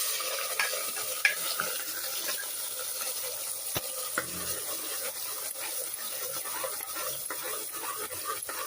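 Ground masala sizzles and fries in hot tempering oil for a horsegram and vegetable curry, with a steady loud hiss and occasional scrapes of stirring close by.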